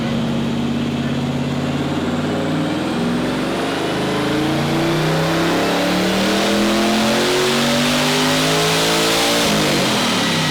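An LS V8-swapped Audi Quattro fitted with four diesel turbochargers revs hard on an all-wheel-drive dyno, its loud engine note climbing steadily in pitch for about ten seconds, close and without speech.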